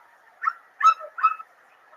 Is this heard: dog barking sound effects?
yes